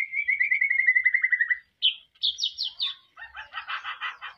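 A white-rumped shama (murai batu) sings in a breeding aviary, a clear close run of whistled, warbling phrases with rising notes and rapid trilled bursts, alone with no talk.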